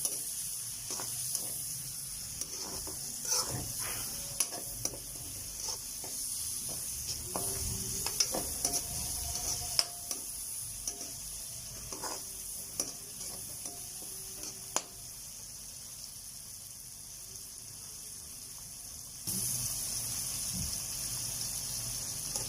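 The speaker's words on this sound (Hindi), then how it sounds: "2 मीडियम साइज़ के मैंने काटे थे, अब मैंने वो इसको मैं इसमें डाल दी। इसको 2-3 मिनट इसको फ्राई करने के बाद" Chopped onions, two medium ones, fry in a pan while a bare kitchen hiss runs throughout, with scattered clicks and scrapes of stirring. The level stays fairly quiet and steady and no one speaks.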